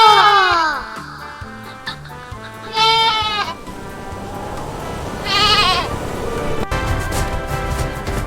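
Goat bleating in a cartoon set around Bakra Eid, several loud wavering bleats spaced a few seconds apart over a soft rhythmic musical backing.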